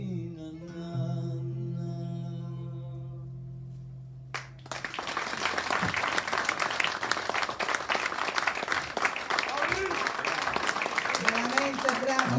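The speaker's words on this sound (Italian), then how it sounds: "date l'applauso ancora" A sustained held tone with harmonics gives way around four seconds to a burst of audience applause, a dense, steady clapping from a hall crowd that continues to the end.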